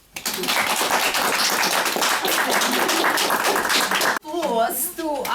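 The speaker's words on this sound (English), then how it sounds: "Applause to our dear contestants" A meeting audience applauds its contestants with steady, dense clapping for about four seconds, then the clapping stops abruptly and a voice speaks close by.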